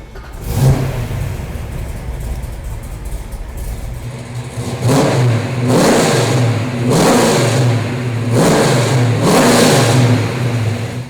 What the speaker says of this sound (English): How about I fire it up for you so you can hear what the HEMI sounds like.